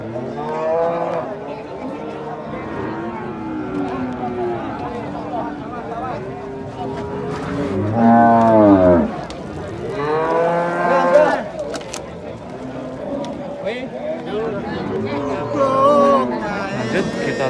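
Jumbo bull cattle at a livestock market moo loudly, with long drawn-out calls rising near the middle and again later, over a constant background of crowd chatter and people talking.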